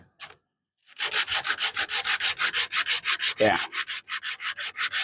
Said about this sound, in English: Actually, let's do it with sandpaper.